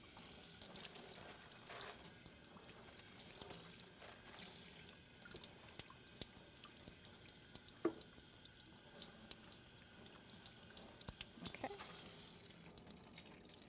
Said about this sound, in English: Just going to kind of rinse this again.